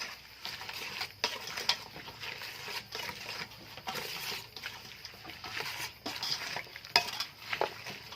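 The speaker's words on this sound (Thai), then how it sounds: "ต้นหอม ขึ้นช่าย คลุกเขาให้เข้ากัน" A spicy Thai salad with chicken feet, spring onion, celery, tomato and onion is tossed together in a bowl, giving soft, close, irregular stirring and wet rustling with faint clinks.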